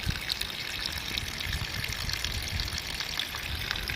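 Mountain spring water trickling over rocks, a steady soft splashing and gurgling heard up close at low volume without interruption.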